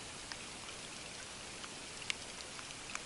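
Rain falling during a fishing trip on pontoons, a soft continuous patter with scattered distinct drops ticking on a surface, quiet and close, no talking.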